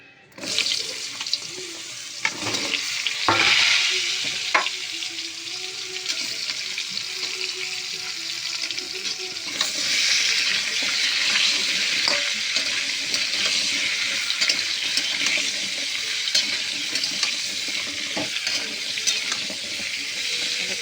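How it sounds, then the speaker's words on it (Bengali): Long pieces of pointed gourd (potol) fry in oil with a steady, loud hiss and crackle that runs throughout, with occasional clatter and scraping near the start. "পটলগুলো একটু ভেজে নেব তেলের মধ্যে দিয়ে"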